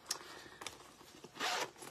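A recessed zipper on a large crossbody bag is pulled open in a few quick, raspy bursts, close and crisp, ending in a longer steady zip.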